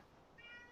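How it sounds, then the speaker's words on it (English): A single short cat meow, faint and somewhat distant, rising briefly over quiet room background. "I can hear a cat."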